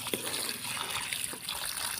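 Water splashes and sloshes into a pot of country chicken curry, a steady pouring spatter close by with a faint voice underneath.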